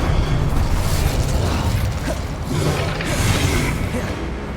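Confringo and Incendio spells in the Hogwarts Legacy video game burst in a dense, loud rush of fiery blasts and crackling rumble with mechanical clatter, while a voice talks over the chaos.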